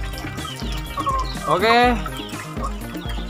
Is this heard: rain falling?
no